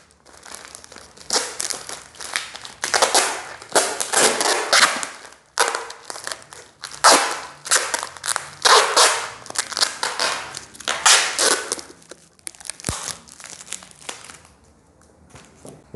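Paper is crumpled and squeezed by hand to shape a cactus sculpture, giving repeated close, loud crinkling bursts in an uneven rhythm for most of the stretch before it quiets toward the end.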